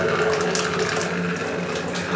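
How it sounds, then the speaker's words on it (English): Water runs steadily from a shower head supplied by an on-demand water heater, a continuous close hiss and splash with no break. "when you turn on the valve to the shower head"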